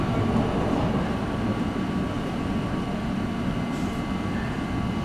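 A London Underground S Stock train rumbles steadily at close range at Barbican station, a dense continuous roar of wheels and motors with no voices.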